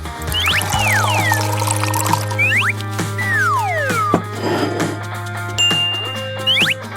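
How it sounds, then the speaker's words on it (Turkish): Lemonade pours steadily into a glass for several seconds, a continuous liquid trickle set against a busy backdrop of music and cartoonish sound effects. "Böyle bir kaseye fazladan dökebilirsin."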